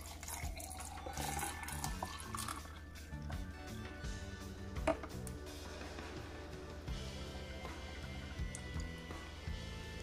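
Jamaican sorrel pineapple juice pours steadily into a container in a kitchen, a continuous close liquid stream with faint clinks, heard alone without talk.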